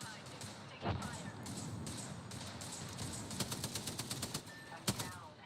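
Gunfire in the online shooter Apex Legends: clusters of sharp rapid shots, densest in a quick burst near the end, over a busy background of game sounds at moderate level.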